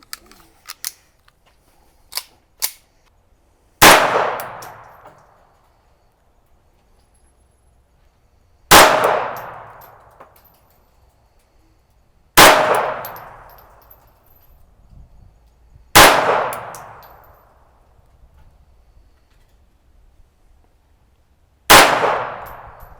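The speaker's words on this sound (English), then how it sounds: "So we'll put a couple of rounds down range with this one." Five sharp, loud .380 pistol shots fired down range at targets on a shooting range, spaced several seconds apart, each with a short ringing decay, preceded by a few faint clicks.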